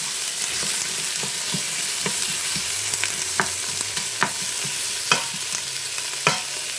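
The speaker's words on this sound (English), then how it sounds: "Got me a little wooden spoon. Gotta break up these onions." Onions fry in a pot for beef pot roast while a wooden spoon stirs and breaks them up, steady sizzle under repeated sharp scraping knocks, no talk.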